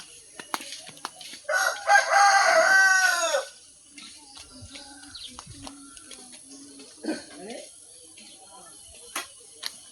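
A rooster crows loudly for a couple of seconds, followed by scattered clucks and small knocks in a quiet yard.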